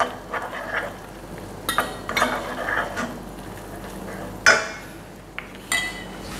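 Sliced large red chili goes into a pan for a lamb chop dish, bringing light sizzling under scattered metallic clinks and scraping of a utensil against the pan, with a few sharper knocks.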